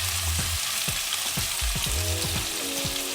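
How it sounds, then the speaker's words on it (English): Grated red onions sizzle and crackle in hot oil in a non-stick kadai, a loud, close hiss broken by scraping stirs at irregular intervals, with no voices. "I've taken 2 medium-sized onions, red onions, and I've grated them nicely. And we will just add this to the oil."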